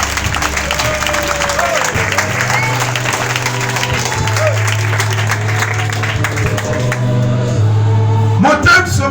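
A church congregation applauding during a worship service, sustained clapping mixed with a crowd din and voices, loud and continuous over a held low musical tone.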